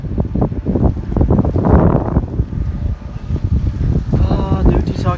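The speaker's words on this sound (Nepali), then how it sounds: "तातो तातो हावा चलिरहेछ." Hot wind blowing outdoors in Riyadh, Saudi Arabia, near the STC headquarters, a loud buffeting rumble pressing on the microphone throughout, with a brief tonal sound near the end.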